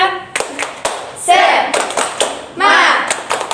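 A small group in a classroom counseling session performs a rhythmic spirit clap in a short patterned sequence of sharp hand claps, with voices chanting and shouting between and over the beats.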